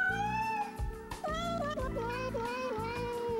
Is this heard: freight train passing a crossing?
no